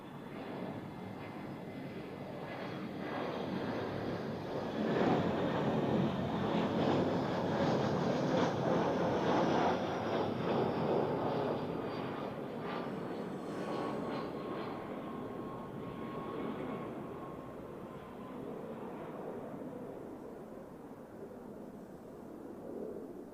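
An airliner lands at Zurich Airport, a broad rushing roar with whining engine tones that builds early, holds for several seconds, then slowly fades into a lingering distant rumble.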